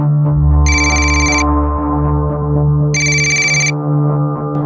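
A phone ringtone sounds loud and close for an incoming call: two bursts of a bright electronic ring separated by a pause, over a steady low hum.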